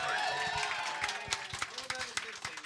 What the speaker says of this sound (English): That was a hint for a round of applause for James, by the way.